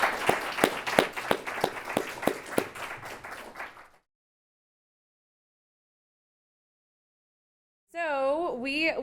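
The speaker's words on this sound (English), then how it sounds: "let's take 1 second to give a round of applause to our panelists" Audience applause for the panelists at a conference session, a few seconds of rhythmic clapping that fades into silence before a voice starts speaking.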